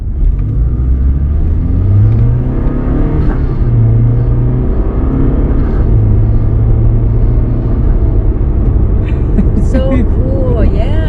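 A car fitted with a throttle controller revs and accelerates from inside the cabin, its engine rumbling and rising in pitch through repeated pulls. Occasional voices are heard inside the car.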